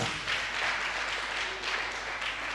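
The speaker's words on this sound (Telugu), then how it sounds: "గట్టి చప్పట్లు కూడా దేవుడు స్తుతిద్దాం" A congregation at a Telugu Catholic gathering claps loudly in a sustained, dense burst of applause.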